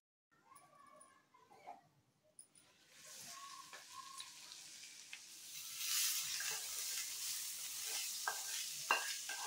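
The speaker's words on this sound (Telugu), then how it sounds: "ఇంక ఈ తాలింపు అంతా అన్నానికి వేసేసుకుందాము." Carom seed tempering is stirred into cooked rice: a spoon scrapes and the seeds sizzle faintly and close, while a person talks quietly at the start and soft background voices come and go.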